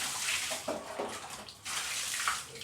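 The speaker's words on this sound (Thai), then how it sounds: "เอาน้ำใส่นะเอาน้ำลาดไปก่อนครับ" Water is poured and splashed across a tiled school bathroom floor during cleaning, a broad wet rushing wash with short splashy surges, fairly close and steady, no talk.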